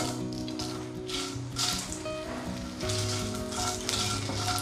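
Cashew nuts and dried red chillies fry in oil with a continuous close sizzle and bubbling crackle that swells in bursts, steady throughout and free of talk.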